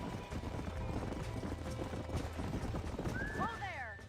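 Horses clip-clop at a trot in the video game Red Dead Redemption, steady rhythmic hoofbeats under game dialogue, ending in a loud whinny near the close.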